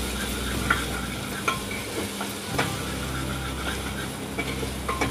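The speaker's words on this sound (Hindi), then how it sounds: "इन मसालों को भी अच्छे से भून लेंगे।" Spices sizzle and fry steadily in a pan for aloo matar pulao, with a constant crackling hiss and occasional soft taps of a spoon stirring, close up and without talk.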